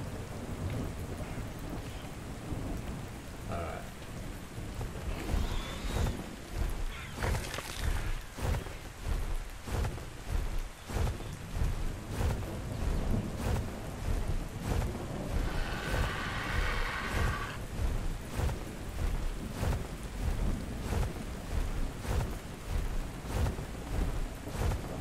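Rain and thunder in a video game form a long, steady downpour with repeated rumbling thunder rolls, loud and continuous with no voices.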